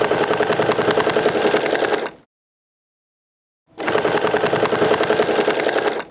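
A sewing machine stitching a small design runs in a steady, fast mechanical chatter for about two seconds, falls silent, then starts again with the same even rhythm, loud and close with no voices.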